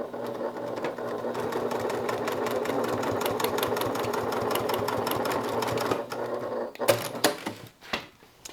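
Sewing machine stitching a seam, running steadily and close at a fast mechanical whir for about six seconds, then stopping into a few clicks and knocks from the machine.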